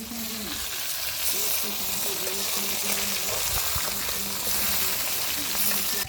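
Second side of a turmeric-and-salt-coated baim fish frying in oil, a continuous close sizzle with faint stirring movements and a soft murmur of voices underneath.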